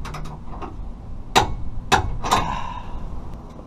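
A torque wrench clicks on the large front carriage bolts of a trailer hitch receiver being fitted to a 2000-2006 Toyota Tundra. Three sharp, close metallic clicks come about half a second apart over faint background noise.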